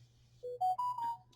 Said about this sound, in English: pardon my phone, that's my daughter texting me